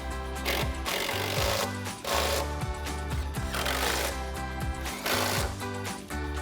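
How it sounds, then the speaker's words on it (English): A 13mm socket on an impact or power tool runs down a nut while fitting lowering springs to a 2008-2023 V8 HEMI Dodge Charger, giving loud rapid rattling bursts with short gaps, close and without speech. "Now you can tighten this down with your 13mm socket."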